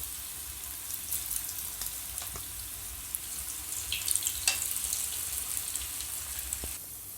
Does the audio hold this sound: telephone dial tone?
no